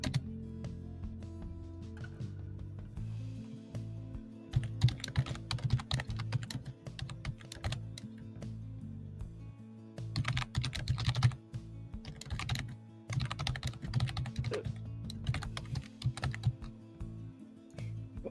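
Vigorous, fast typing on a computer keyboard, played up close as dense rattling bursts of keystrokes separated by brief pauses, with a steady low hum underneath and no voices.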